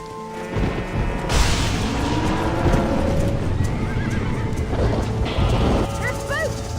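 Spooked horses neigh and whinny while hooves pound in a galloping stampede in the Red Dead Redemption video game, a loud, dense rumble with sharp whinnies rising over it and voices shouting in the mix.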